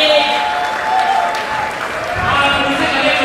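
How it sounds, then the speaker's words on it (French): An audience at an awards ceremony for a francophone treasure hunt in Kinshasa applauds, a dense burst of clapping from a crowd in a hall, fairly loud and sustained for a few seconds. "Est-ce qu'on peut applaudir pour Madame Christine?"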